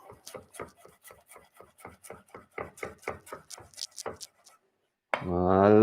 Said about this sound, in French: On vient plaquer la pointe du couteau sur la planche et on y va